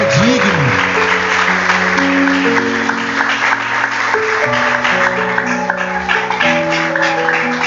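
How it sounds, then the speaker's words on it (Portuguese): A church congregation claps steadily through the whole stretch, the applause spread evenly under sustained keyboard chords played loudly nearby. "Aplauda o Senhor mesmo,"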